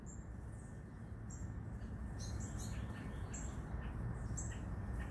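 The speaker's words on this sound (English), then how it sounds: "them birds is having fun." Birds chirp and squawk in short high bursts outdoors around pecans set out for squirrels, fairly faint over a steady broadband background hiss.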